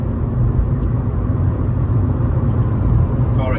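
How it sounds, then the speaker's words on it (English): A 2018 Fiat 500 Lounge with a 1.2 petrol engine and five-speed gearbox accelerates smoothly, a steady, close, dense engine and road rumble with no breaks or misfires and no talking. "Car accelerates nice and clean, no misfires"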